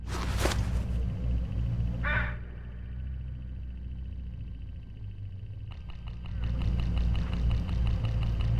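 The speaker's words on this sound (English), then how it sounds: "Look, hooded crows all along this road." Hooded crows along a road in the game Hitchhiker give a few harsh caws, one near the start and another shortly after, then a rhythmic mechanical pulsing joins a steady low engine-like hum.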